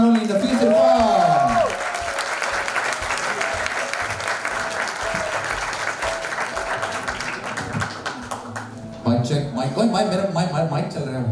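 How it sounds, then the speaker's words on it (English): Loud audience applause at a qawwali night fills the room, with cheering and a few voices over the clapping. The applause holds steady for about nine seconds, then swells again briefly near the end. "Bahut saari taaliyan"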